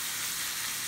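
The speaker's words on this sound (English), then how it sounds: "So now we're actually going to start frying." Steady, broadband sizzle of wild dryad's saddle mushrooms frying in a pan, a continuous hiss with no talking.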